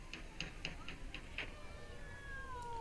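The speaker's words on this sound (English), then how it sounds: "Is this the actual cat or is this the guy?" Cat in the 1974 film Black Christmas gives a string of about six short, evenly spaced meows, then a long drawn-out cry that trails off, fairly faint under a hum of background noise.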